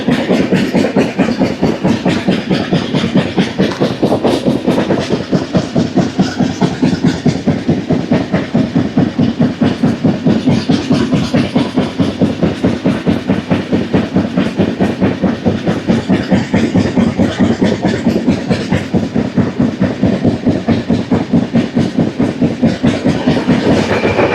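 Godavari Express (12728) passenger train running past Gannavaram station on the Hyderabad to Visakhapatnam route, a loud, continuous rolling roar with steady rhythmic clickety-clack of wheels over rail joints and no talking.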